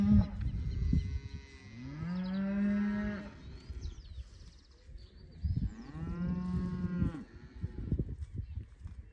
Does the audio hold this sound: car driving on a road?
no